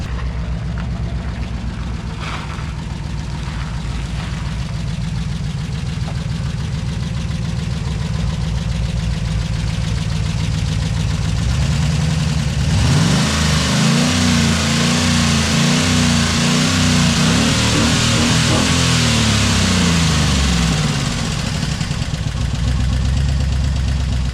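A worn truck engine idles steadily while warming up, a constant close mechanical rumble with a deeper, lumpier low throb joining midway and running to the end.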